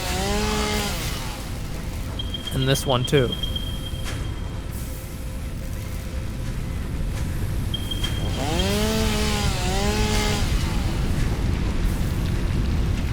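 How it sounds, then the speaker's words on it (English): A chainsaw felling trees in the video game Satisfactory roars loudly and continuously, with rising and falling engine revs in two bursts and a brief crash between; someone speaks briefly. "I should never been trusted with a chainsaw."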